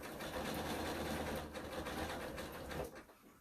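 A sewing machine runs a steady test stitch for a few seconds, its even mechanical whir close and constant before stopping abruptly.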